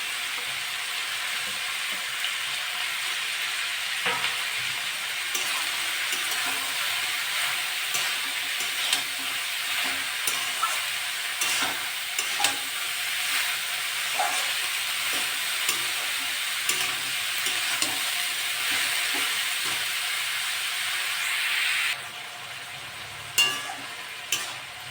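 Pointed gourd pieces sizzling and frying in hot oil in a pan, a steady loud crackling hiss with occasional stirring scrapes, continuous and close, dropping off sharply near the end.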